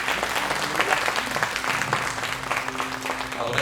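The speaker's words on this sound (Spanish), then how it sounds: "Un aplauso a Cristo Jesús." A church congregation applauds during a Spanish-language worship service, steady, dense clapping throughout with voices mixed in beneath.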